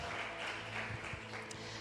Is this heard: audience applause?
yes